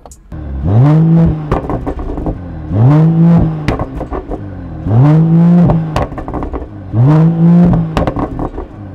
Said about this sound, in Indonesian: kita injek remnya, tahan pedal shift yang up ya, yang up shift, baru tekan